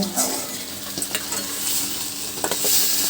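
An egg frying in a pan in a shared mess kitchen gives a steady close sizzle, with light scraping and clinks of a utensil against the pan and no talking.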